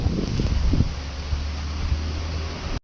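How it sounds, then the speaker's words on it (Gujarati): Outdoor wind during heavy unseasonal rain in Chobari, Kutch, the gusts now easing while the downpour keeps falling: a steady, rushing broadband wash with a low rumble, continuous and without talk, cutting off abruptly at the end. "પવનની ગતિ ધીમી થઈ ગઈ છે, પણ એટલો ને એટલો વરસાદ ચાલુ છે"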